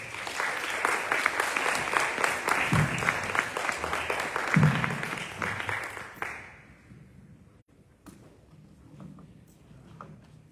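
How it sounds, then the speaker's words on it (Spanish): Warm audience applause for Marcos at a book presentation for a Hostos biography, steady clapping for about six seconds that then fades to a quiet room with faint stray sounds. "un aplauso para Marcos."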